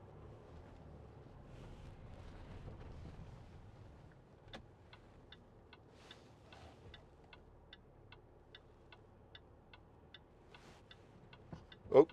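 A steady, regular ticking of a 2012 Land Rover Discovery 4 3.0 SD V6's turn signal clicks about twice a second, quiet over a low road rumble, with a brief thump at the end.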